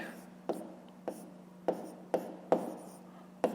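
Numbers written by hand for a fifth-grade fraction exercise: six quick, sharp taps and scratches at uneven intervals, near and moderately loud over a low constant hum.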